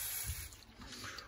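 Lukewarm water poured onto flowers, a soft steady trickle and splash that runs quietly and continuously at close range with no talking.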